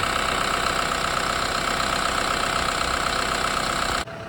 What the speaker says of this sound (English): Go ahead and give you a good listen to that engine.